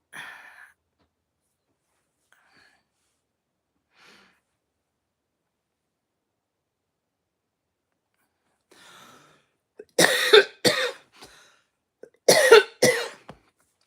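A few sharp, harsh coughs in two quick bursts near the end, after a long stretch of near silence with faint breathy sounds.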